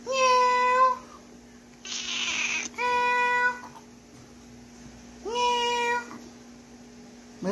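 A plump, affectionate house cat meows three times with pauses between, close and clear, with a short burst of hiss-like noise between the first two meows.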